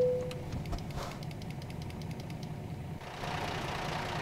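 A semi truck idles in American Truck Simulator, giving a low, steady diesel rumble with a faint rattling knock. The engine tone holds even, then a broader hiss rises near the end.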